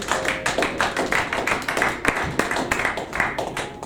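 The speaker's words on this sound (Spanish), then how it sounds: "Den un aplauso a Jesús." A church congregation claps in a steady, rhythmic beat, the sharp hand slaps close and evenly spaced throughout, with a faint murmur of voices underneath.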